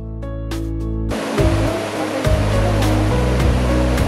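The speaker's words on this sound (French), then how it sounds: "Il est beau ce torrent en bas, non?" A mountain torrent rushes below a trail near a refuge in the Haut-Champsaur, a loud, dense, continuous roar of white water close by with no talk over it.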